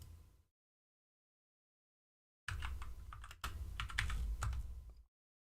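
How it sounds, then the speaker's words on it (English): A computer keyboard clicks once briefly, then after a silent pause gives a few seconds of rapid, close keystrokes with no voices. "let me type this. in real quick."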